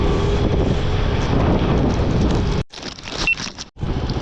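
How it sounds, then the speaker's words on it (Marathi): Heavy rain and wind in Ladakh roar in a dense, steady wash of noise that drops out briefly near the end before returning. "मित्रांनो तो पाऊस यायला लागलाय"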